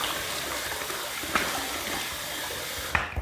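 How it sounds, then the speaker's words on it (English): Bloom water from a safety-razor shave is poured out in a steady, close running splash with a couple of brief clinks, fading away at the end. "I am gonna dump this bloom water in there."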